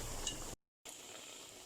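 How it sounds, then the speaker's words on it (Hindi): Gram flour khandvi pieces deep frying in hot oil, a steady bright sizzle that cuts out briefly in the middle and then resumes at the same level, with no voices. "इसको अब हम गोल्डन फ्राई करते हैं।"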